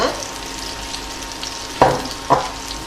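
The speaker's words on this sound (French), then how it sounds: "Dans la même poêle, j'ai ajouté le beurre que j'ai fait fondre. Je vais verser les champignons" Mushrooms poured into melted butter in a frying pan give a steady low sizzle, with two louder bursts of crackling as they hit the hot fat; no one speaks.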